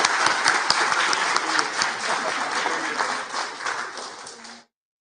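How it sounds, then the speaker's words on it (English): Applause from an audience at a city council meeting, a dense steady wash of clapping filling the room at close range before cutting off abruptly. "Give her another round of applause."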